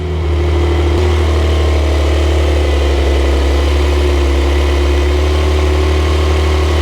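A Porsche 911 Turbo S engine runs steadily and loud up close, a deep idling rumble with a slight rise in revs around the first second, on a hot humid Florida street.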